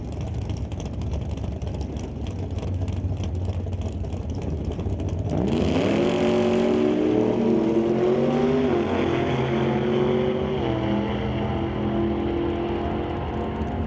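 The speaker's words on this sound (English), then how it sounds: "combo for Corey Stewart, 622 cubic inches. Naturally aspirated power, getting ready to trip on that top bulb" Naturally aspirated 622 cubic inch drag racing car at a strip: a crackling high-revving roar gives way to a loud, sustained engine howl that climbs in pitch as the car launches and pulls away.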